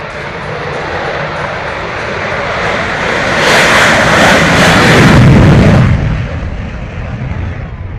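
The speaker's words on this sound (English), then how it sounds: "this F16 aerobatics demonstration by one of the finest operational pilots from the RSAF" An F-16 Falcon fighter jet roars past during an aerobatics demonstration at the Melbourne International Airshow 2011, its loud broadband engine noise building to a peak mid-pass and then easing as it moves away, with no talk.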